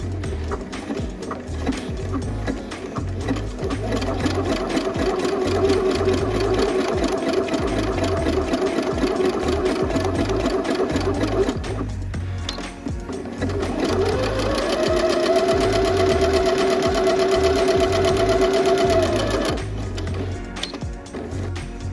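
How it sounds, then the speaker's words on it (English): Close, steady drone of a sewing machine stitching a buttonhole on denim, running continuously with a brief pause near the middle before resuming at a slightly higher pitch. "So I'm gonna go ahead and start."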